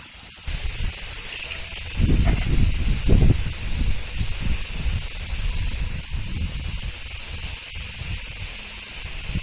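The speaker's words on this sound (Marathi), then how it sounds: "त्या मिरच्या आपण स्वच्छ धुवून घेऊया" Water pours and splashes over fresh green chillies as they are rinsed clean, a hissing gush that starts suddenly and runs steadily with a few louder splashy bursts near the start.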